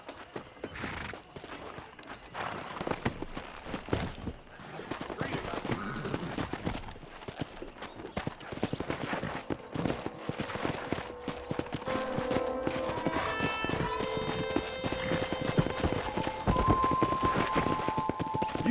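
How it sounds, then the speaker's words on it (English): Rhythmic clip-clop of horse hooves trotting steadily in the video game Red Dead Redemption, with occasional whinnies and a busy game soundtrack and ambient noise running underneath. "let's see if we can't wrangle some horses."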